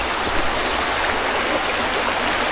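A river creek flowing through a forested canyon with vertical cliffs in Spearfish Canyon, a steady close rush of water that fills the air without pause or variation.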